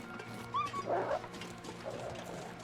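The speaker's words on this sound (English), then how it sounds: "Did I just hear a growl?" A wolf growls in the survival video game The Long Dark, a short rough snarl followed by a fainter second rumble over low ambient game noise.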